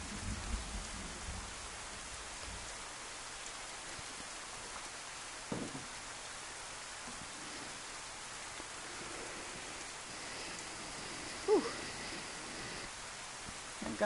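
Rain falls steadily outdoors near a roadblock, a soft continuous patter and hiss with a few brief louder knocks and rustles scattered through it.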